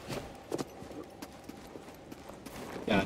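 Goat hooves clatter in Star Wars Jedi Fallen Order, a few quick irregular clopping bursts at moderate loudness over faint game ambience, with a sharper cluster near the end.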